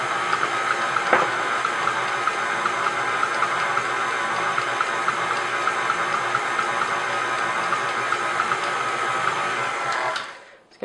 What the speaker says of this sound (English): Mix it here, medium-low speed for just about 30 seconds